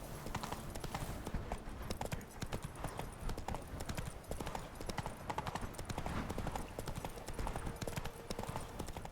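Roach, Geralt's horse in The Witcher 3, trots with steady, continuous hoof clip-clops close by, a dense rhythmic clatter filling the whole stretch.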